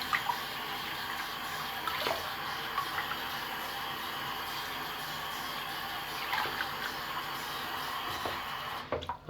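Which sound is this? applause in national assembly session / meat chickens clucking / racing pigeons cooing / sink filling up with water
sink filling up with water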